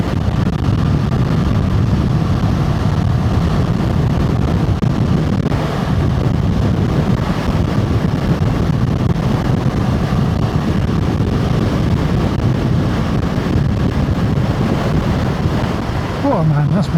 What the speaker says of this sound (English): Oh man, that's windy.